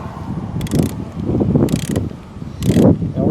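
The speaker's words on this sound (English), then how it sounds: "And now we're going to take our wrench." A wrench ratchets on a car battery terminal of a Toyota Camry, three short bursts of metallic clicking, close and distinct, over a low background of handling noise.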